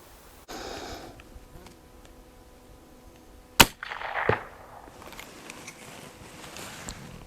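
A single sharp crack from a long-barrel Colt rifle fired at a jug outdoors, loud and close, followed by a brief rushing noise and a quieter tail.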